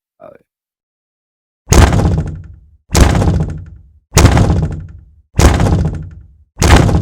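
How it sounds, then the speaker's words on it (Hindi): Heavy pounding on a wooden door: five loud, evenly spaced booming blows with short decays, heard alone against silence. "दस्तक की आवाज जोर और जोर होती जा रही है, जैसे पूरे घर में गूंज रही है।"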